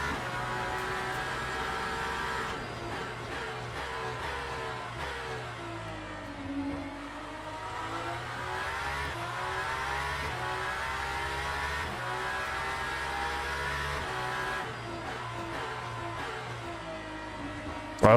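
Race car engine in the Le Mans Ultimate racing game, droning steadily through the whole stretch with shifting pitch as it accelerates and lifts, close and continuous, with faint talk mixed in.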